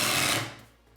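A Ryobi brushless impact driver sends a 3-inch screw into wood with a brief, loud, rapid hammering buzz. The sound cuts off sharply after under half a second, leaving near silence.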